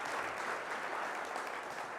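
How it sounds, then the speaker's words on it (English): An indoor audience at a company launch event applauds, a dense, even wash of clapping from many hands that holds steady throughout. "let's give you a round of applause for that"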